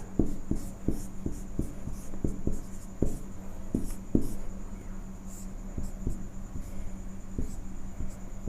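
A math equation written out by hand, producing a brisk series of short tapping strokes and scratches in an irregular rhythm, close and clear, with no voices over it.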